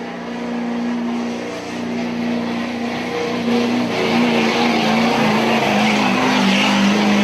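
A street legal diesel pickup truck roars under load at a county field days truck pull, its engine note holding a loud, sustained drone that rises in pitch and intensity as the pull goes on.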